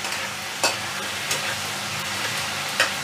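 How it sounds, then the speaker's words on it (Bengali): Softened tomatoes frying in a pan for a drumstick and potato curry are stirred, giving a steady low sizzle broken by a few soft scraping strokes of the spoon, close and moderately quiet with no voices. "এইবার একসাথে আমি মিক্স করে দিচ্ছি। যেহেতু টমেটোটা বেশ নরম হয়ে এসছে ভাজতে ভাজতে"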